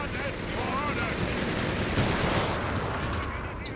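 Automatic gunfire crackles through a Company of Heroes 3 battle, dense and continuous across the whole stretch with other combat noise and a voice talking over it.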